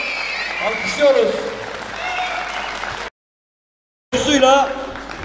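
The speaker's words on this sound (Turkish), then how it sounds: "Alkışlıyoruz." An audience applauds at a Yörük folk music performance in Kaş, Turkey, with dense, continuous clapping and crowd noise; the sound cuts out abruptly for a second before the clapping resumes.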